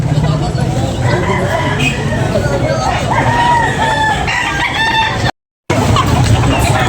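Roosters crow and chickens cluck amid a noisy crowd of chatter and background bustle at a chicken sale, with a brief dropout near the end.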